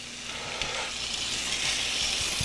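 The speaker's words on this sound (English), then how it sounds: "we're looking for a little sizzle there." Rib eye steak sizzles steadily in a hot pan with a little olive oil, a continuous close frying hiss with faint crackles and no talking.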